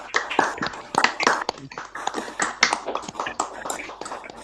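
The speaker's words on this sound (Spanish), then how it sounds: "Pido por favor un aplauso fuerte" Audience at a writers' collective poetry and film talk claps in uneven close bursts for several seconds, individual hand slaps distinct rather than a dense roar.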